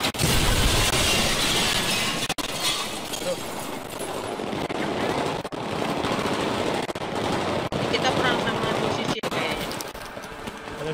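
Heavy, continuous gunfire and explosions in the shooter game Battlefield 3, a loud, dense barrage with sharp cracks throughout while people talk over it.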